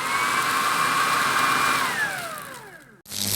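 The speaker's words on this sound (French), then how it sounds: "je peux te dire que ça aspire bien et ça nettoie bien, que ce soit un tapis, un canapé" A vacuum cleaner with an anti-mite brush works over a sofa, its motor giving a loud, steady whine that dips in pitch, cuts out briefly, then roars back.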